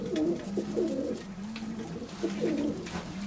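Domestic pigeons coo nearby, including a marble-coloured bird, giving several soft, throaty rolling coos in a loose rhythm over a low background hum.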